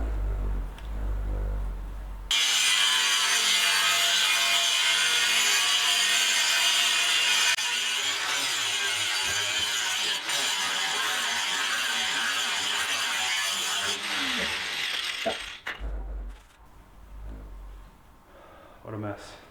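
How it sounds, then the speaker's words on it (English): A grinder cutting down a tight rib on a wood stove liner: a loud, continuous harsh roar lasting about twelve seconds, then winding down into clatter, with a voice talking before and after. "so I gotta grind down that rib."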